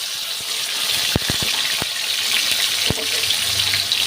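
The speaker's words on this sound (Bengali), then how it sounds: "এবার আমি আগে টমেটোটাকে একটু ভাজা ভাজা করে নেব।" Tomato frying in hot oil with whole spices, a continuous loud sizzle and hiss with a few sharp pops and taps of a utensil scattered through it.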